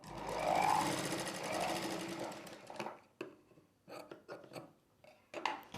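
Domestic sewing machine stitching cross-cut blouse fabric pieces together, a loud continuous run for nearly three seconds, then short intermittent bursts of stitching with pauses between them.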